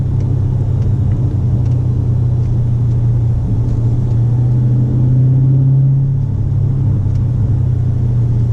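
A 2019 Dodge Challenger Scatpack Widebody's V8 drones with a deep, steady low rumble from inside the cabin while driving, swelling slightly under light acceleration.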